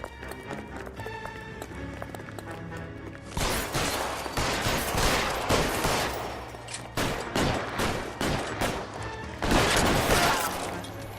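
Gunfire during a shootout in the video game L.A. Noire, arriving after a quiet opening as sharp repeated bursts and single shots, loud and close, with running footsteps and game noise between them.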